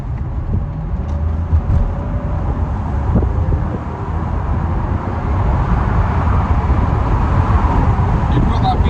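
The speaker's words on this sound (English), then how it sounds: "I'll give it a squirt of the throttle going up the hill." A Lexus SC430 convertible with its top down and a V8 engine accelerates uphill under throttle. The muted engine note rises steadily beneath wind and road rumble, and someone talks over it.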